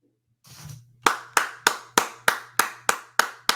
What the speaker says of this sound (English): Yeah, just raucous applause.